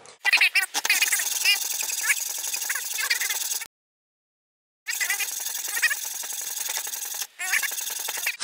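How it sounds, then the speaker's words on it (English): Hacksaw sawing through the casing of a Delta 78 lens array, a steady bright rasping stroke close up, interrupted by about a second of silence and a brief pause later. "you take your hacksaw, line it up with this"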